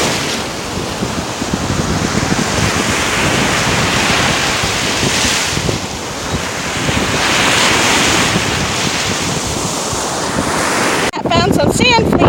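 Steady ocean surf rolling onto Caspersen Beach in Venice, Florida, a continuous loud wash of breaking waves with wind buffeting the microphone, and a brief rustling handling noise near the end.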